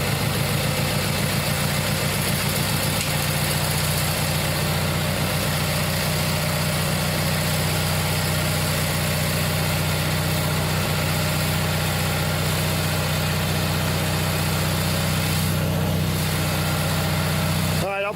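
A tractor engine idles steadily and loudly up close, a constant low rumble with vibration that holds for the whole stretch, and no voices over it.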